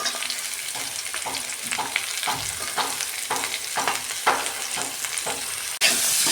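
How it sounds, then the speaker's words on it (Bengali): Peas and capsicum fry in a spice paste for veg biryani, a steady close sizzle marked by regular stirring scrapes, with a sharp burst of hiss near the end. "কড়াইশুঁটি আর ক্যাপসিকামটা দিয়ে দিচ্ছি।"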